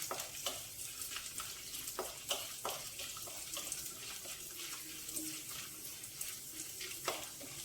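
Beans and carrots fry softly in a pan for a coconut stir-fry, a low steady sizzle broken by repeated light scrapes and clicks of a stirring spoon.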